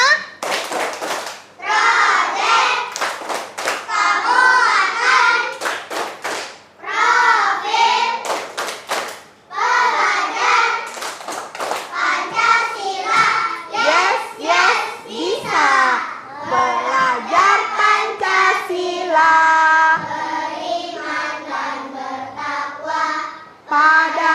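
A classroom of children chants the P5 clapping cheer in unison, loud rhythmic bursts of voices punctuated by sharp group claps and short pauses, carrying on for over twenty seconds.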